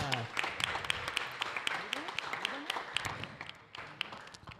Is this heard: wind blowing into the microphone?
no